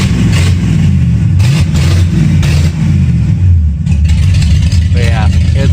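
A loud Lincoln car engine runs and revs steadily nearby, a constant rumbling roar with slight swells in pitch, and voices faintly underneath.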